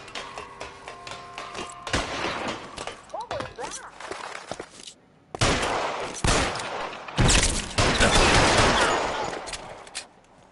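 Bursts of rapid gunfire and single heavy shots crack through a shootout in a detective video game, loud and close, with footsteps and a voice heard early on.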